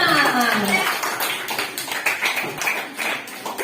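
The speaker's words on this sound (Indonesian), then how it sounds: "Tepuk tangan lagi buat kelompok 5" A class of pupils claps for group 5 in a school lesson, scattered sharp hand claps and taps following a brief voice at the start, moderately close and uneven in rhythm.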